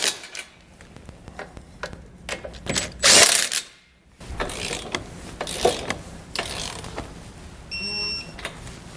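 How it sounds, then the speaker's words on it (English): Ratchet wrench tightening Curt trailer hitch receiver hardware beneath a 2017 BMW X3, heard as several short bursts of clicking and rasping, close and moderately loud, with a brief louder spell and a pause between them. "Then we can go back and tighten our hardware and torque it to the specifications found in our instructions."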